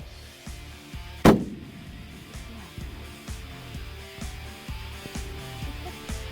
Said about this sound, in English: In this footage, Bob makes a very lethal shot on a Wyoming antelope at 430 yards.